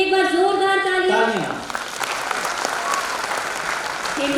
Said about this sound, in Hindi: तो हमारी भारतीय नारियों के लिए एक बार जोरदार तालियां।